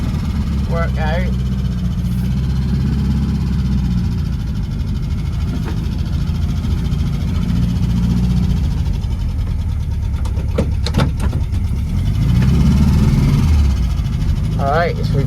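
A VW Beetle's air-cooled engine runs steadily with a low, even drone as the car reverses, a few gear-change bumps and a voice talking over the engine now and then.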